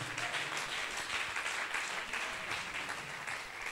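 A church congregation applauds during a French-language worship service, a steady wash of many hands clapping at once, fairly faint and distant, with no one speaking over it.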